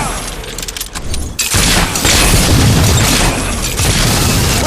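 Heavy battle noise from the video game Fable 3: a loud, continuous roar of booms and bursts swells after a brief quieter opening and keeps rumbling dense and close, with gunfire blended into the explosions.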